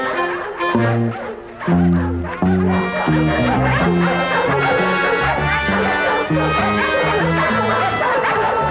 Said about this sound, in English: Got those dogs all stirred up.